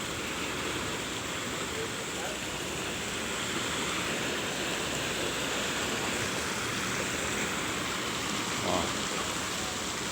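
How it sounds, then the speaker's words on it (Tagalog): Continuous rushing wash of artificial waves churning steadily in a wave pool, with no distinct breaks between surges. "May artificial na wave."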